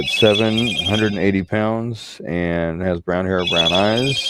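A phone ringtone chirps in high repeated tones at the start and again near the end, partly under a woman's steady speech.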